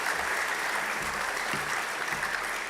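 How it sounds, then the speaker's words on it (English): Steady audience applause at a Holocaust Remembrance Day gathering at a Jewish center, honoring a rabbi: dense, continuous clapping from many hands, fairly loud throughout with no talk over it. "Let's give Rabbi Guido a round of applause"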